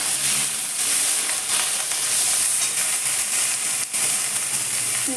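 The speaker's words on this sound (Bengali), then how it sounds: "এবার এর মধ্যে আমি দিয়ে দেবো যে আলুগুলো কেটে রেখেছিলাম, আলুগুলো" Cut potatoes hit lightly fried onions in a hot pan, setting off a loud, steady sizzle with a bright hissing edge that continues evenly for several seconds, with faint stirring scrapes and no talking.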